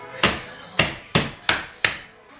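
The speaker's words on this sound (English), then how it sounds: "take your trusty rolling pin and crush" A rolling pin comes down five times on candy, each blow a sharp, close, hard thwack with a short decay. The strikes are evenly spaced about a third of a second apart, with no talking.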